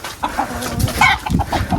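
Newly arrived chickens cluck in a quick, uneven series of short calls as they are let out of a coop onto a farm, close and fairly loud, with several birds overlapping.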